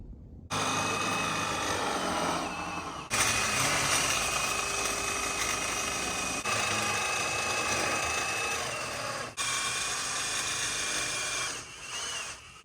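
Electric jacks on a Scout truck camper whir steadily for several seconds, loud and close, with brief pauses and shifts in pitch as the motor stops and restarts, and no talking.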